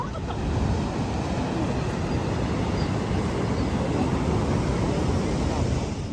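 At the seaside temple entrance at Tanah Lot in Bali, strong wind roars steadily against the microphone, a dense, continuous rumble with a surf-like wash behind it and no speech.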